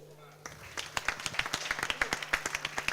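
Scattered clapping breaks out at a public event at an Italian coffee show with bartending demonstrations, building from silence into a string of sharp, fairly close claps from a small number of people.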